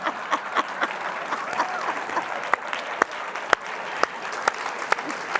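An audience applauds Mary Louise Kelly after a lecture conversation, a moderate crowd clapping steadily with a few sharp, louder claps and some whoops rising above the patter.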